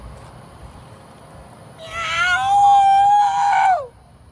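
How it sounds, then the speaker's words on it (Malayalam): A black cat hiding under a vehicle lets out a single long, drawn-out meow that rises, holds and falls away, loud and close against quiet background hum. "ഈ വണ്ടീൻ്റെ അടിയിൽ പൂച്ച ഉണ്ടാ?"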